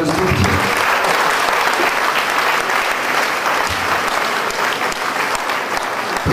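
A church meeting audience claps hands in a loud, sustained burst that fills the room and stays steady for several seconds without pause.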